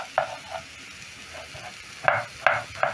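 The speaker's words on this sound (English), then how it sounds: "I'm going to be cooking the onions until soft" Onions cooking in a pan for an egg stew, giving a low sizzle with several short scraping stirs of a utensil, the last few sharper and closer, with no talking.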